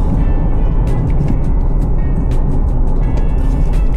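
A Ford Everest Next Gen SUV engine pulls hard while accelerating through the gears on a rough road under construction, a loud, steady rumble that persists throughout with constant wind and road noise.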